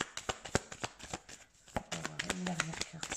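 Tarot cards shuffled by hand in a quick series of crisp riffling snaps and slaps, close and fairly loud, with a brief pause midway and a voice talking softly underneath toward the end.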